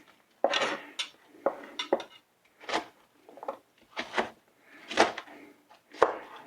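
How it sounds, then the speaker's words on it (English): Knife slicing fire cider ingredients on a cutting board, a series of separate crisp chops and taps at an uneven pace, close and fairly quiet with brief pauses between cuts and no talk. "So I'm just gonna slice these up kind of small."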